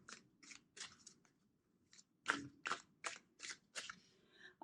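Close, crisp papery riffs of cards being shuffled, about ten short bursts in an uneven rhythm with brief pauses between them.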